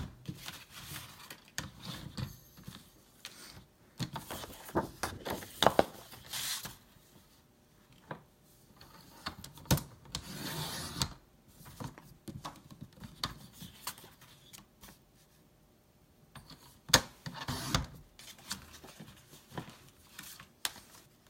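Scissors cutting a strip from a corner of a larger piece of card, irregular bursts of crisp snipping and rustling paper handling, close up, separated by quiet pauses.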